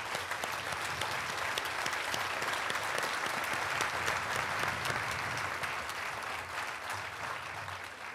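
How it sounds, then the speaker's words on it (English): Sustained audience applause at the Astronaut Hall of Fame induction, a dense steady wash of many hands clapping at even loudness throughout with no talk over it. "So please, a round of applause for all of you."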